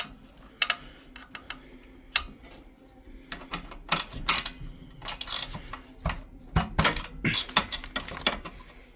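Metal motorcycle bolts from a Suzuki Savage hardtail clink and tick against each other and a hard surface in scattered, irregular bursts, close and fairly quiet, with short pauses between the clatters.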